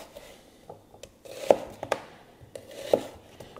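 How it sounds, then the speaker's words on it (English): Onions are chopped with a Firebox folding chef knife on a board, giving several crisp, separate knife taps, a few louder strikes spaced unevenly, close and clear with no talk. "Go ahead and finish chopping up these onions."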